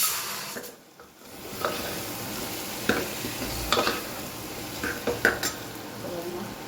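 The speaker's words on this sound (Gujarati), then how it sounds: "થોડું લસણ એડ કરીએ અને થોડું ધાણા એડ કરી દઈએ. ફરીથી મિક્સ કરી લઈએ." Garlic and coriander stirred into frying brinjal and potato curry in a pan: steady soft sizzle under repeated scrapes and clinks of a spoon against the metal pan, close by, with no talking.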